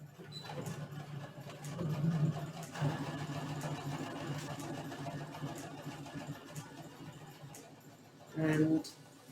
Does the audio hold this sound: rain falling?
no